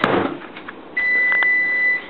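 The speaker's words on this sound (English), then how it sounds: "And there goes the timer. It's ready." As brownies finish baking, a kitchen timer goes off with a single steady, loud electronic tone lasting about a second, just after a short rustling noise.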